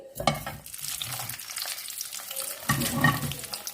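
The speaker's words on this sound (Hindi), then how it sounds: "मैंने ये 3 टेबल स्पून तेल गरम किया है, तो मैं ये टमाटर डाल दूंगी।" Tomatoes drop into three tablespoons of hot oil in a home kitchen, bursting into a loud, steady sizzle and frying crackle with stirring scrapes, easing briefly before a fresh surge near the end.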